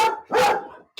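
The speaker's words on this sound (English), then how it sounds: "not we got the guard dog" A guard dog barks indoors, two sharp close barks followed by the start of a third, loud and alone.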